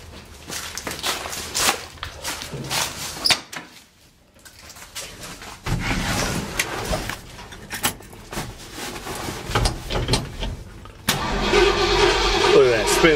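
The engine of a 1955 Chevy truck cranks with a rhythmic starter whir, falls quiet, then cranks again and catches into a steady running roar near the end, with someone talking throughout.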